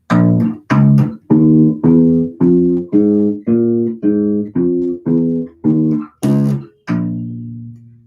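A bass guitar plays a blues scale, a single line of about a dozen distinct notes, each plucked and sustained, climbing and then falling, with a bluesy flavor.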